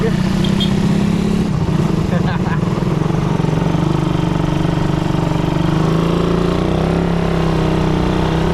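A 2011 motorcycle engine idles and revs nearby at a market, a continuous mid-pitched drone with shifting pitch, while people talk over it.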